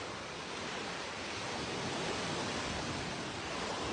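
Ocean surf on a beach in Mindanao during heavy rain, a steady broad wash of breaking waves and rainfall that stays fairly faint and even throughout, with no voices.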